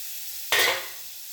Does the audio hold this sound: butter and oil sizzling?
yes